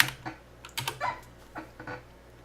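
Keys clatter on a computer keyboard in short irregular bursts of typing, with a few separated clicks and pauses, close and fairly crisp, no voices.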